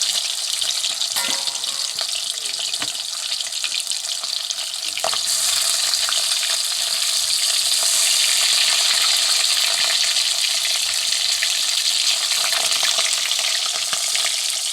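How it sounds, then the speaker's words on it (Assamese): Magur catfish fry in mustard oil in a blackened iron wok, giving a steady, loud, close sizzle and crackle throughout with occasional light stirring clinks and no talking. "এইখিনি মাগুৰ মাছকেইটা ফ্ৰাই কৰি লৈছোঁ।"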